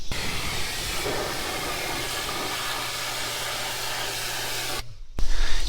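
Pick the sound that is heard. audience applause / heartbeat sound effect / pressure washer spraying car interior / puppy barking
pressure washer spraying car interior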